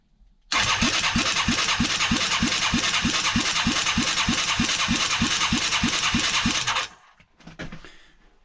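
Yamaha Moto 4 ATV engine cranking over on the starter during a compression test, a loud, steady chugging rhythm of about twenty even compression pulses lasting several seconds, then stopping abruptly.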